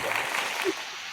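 A brief burst of applause at a coaching session, a dense wash of clapping that lasts about a second with a faint voice in it.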